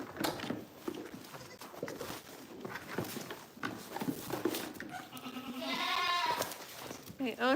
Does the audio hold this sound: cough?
no